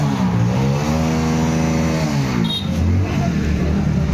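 Several motorbikes rev outdoors at a village drama gathering in Pratappur, a steady engine drone rising and then falling in pitch, loud and close, with a brief higher whine partway through.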